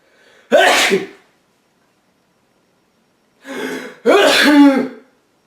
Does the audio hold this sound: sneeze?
yes